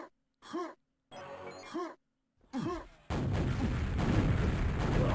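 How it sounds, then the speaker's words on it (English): A rocket launcher in Quakeworld fires during a competitive tournament match, followed by a loud, sustained explosive blast. Sharp grunting game sounds come before it. "another mid-air rocket from Reload"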